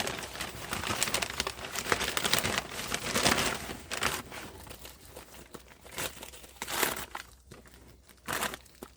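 Crinkling and tearing of packing paper being ripped open around a boxed guava tree, a run of dry rustles and rips close by, with no talk over it.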